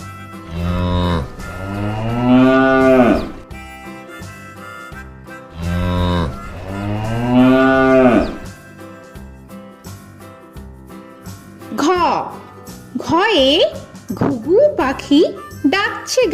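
Two long, drawn-out moos from a cow and calf, each swelling and fading, set in a children's Bangla alphabet rhyme, followed by quick sung or spoken voice phrases with a faint tinkling jingle.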